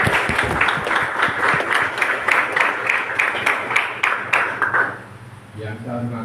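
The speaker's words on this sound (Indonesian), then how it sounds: "Tepuk tangan untuk Ibu Muna." Applause at a scout troop inauguration ceremony at a school, many hands clapping steadily and loudly for several seconds before fading out, with a voice speaking as it ends.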